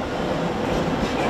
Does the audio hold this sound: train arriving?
yes